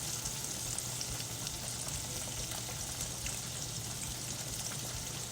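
Southern-style pork chops fry in hot oil in a pan, giving a steady, even sizzle that crackles continuously at close range and low level, with no voices.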